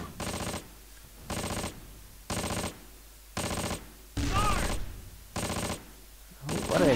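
Repeated bursts of gunfire in the World War II tactics game Close Combat, Wacht am Rhein campaign, coming in regular heavy volleys about once a second with short gaps, loud and close, with some faint battlefield noise between bursts.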